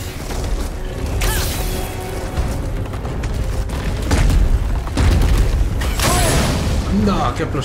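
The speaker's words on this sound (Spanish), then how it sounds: "¡Qué explosión me ha dado con el agua!" Heavy booming blasts in God of War on PS4, one at about four seconds and another near six, over constant game noise and clanking.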